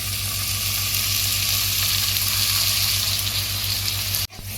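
Masala frying in oil for Karachi-style chicken korma gives a loud, steady sizzle with no talk, then cuts off abruptly near the end.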